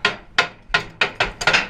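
A hammer strikes repeatedly while an iron tire is fitted onto a wagon wheel: about seven sharp, close, loud blows at a quick, slightly uneven rhythm, with no talking.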